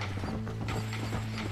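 Horse hooves clip-clopping in Red Dead Redemption, a steady rhythmic trot close up over a low droning game background, with no talk.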